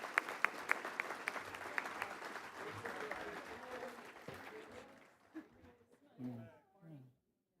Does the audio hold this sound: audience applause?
yes